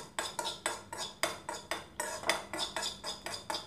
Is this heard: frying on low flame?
yes